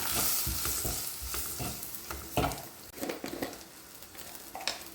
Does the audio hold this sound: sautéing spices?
yes